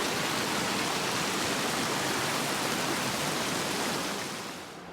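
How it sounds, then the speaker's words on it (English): A river at the end of a walking trail near Moraine Lake rushes in a loud, continuous broadband roar close by, fading slightly at the very end. "there's a waterfall here, or a river rather, not a waterfall"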